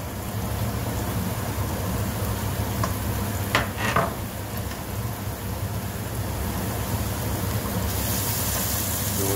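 Butter and tomatoes sizzle in a pan as the base of a fish court-bouillon sauce: a dense, steady frying hiss runs throughout, close and even, broken briefly by a couple of utensil scrapes midway, with no talking.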